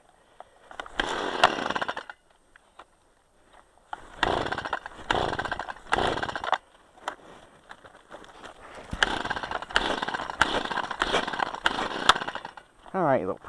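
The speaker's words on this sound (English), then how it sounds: "the pulse saw didn't want to run right neither" A pulse chainsaw struggling to run in cold weather while clearing fence rows: loud, close bursts of engine revving that cut out and restart unevenly, with short quiet gaps between them.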